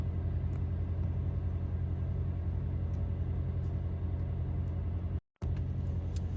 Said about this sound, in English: So we're gonna do a cold start.